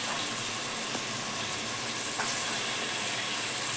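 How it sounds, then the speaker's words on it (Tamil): Peas, carrots and beans frying in hot oil for a veg biryani, a steady, even sizzle and hiss with a couple of faint clicks and no talking. "கேரட் பீன்ஸ், எண்ணெயில் 1 நிமிஷம் வதக்கி விட்டுருவோம்."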